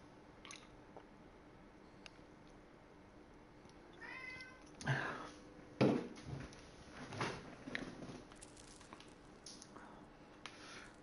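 An indoor cat gives a few short meows midway, mixed with nearby rustling, squishing and chewing-like noises. The sounds come in brief bursts over a quiet background.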